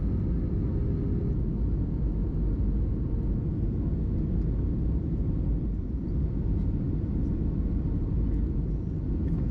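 Steady low cabin roar of an easyJet airliner on final approach into Bristol Airport, a continuous deep engine and airflow rumble heard from inside, unbroken and fairly loud.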